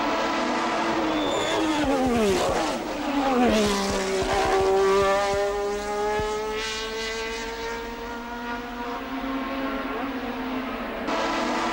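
Ralt race car running on three wheels, its engine screaming loud and close, pitch sweeping down then climbing again in a long continuous howl, with a scraping skid early on.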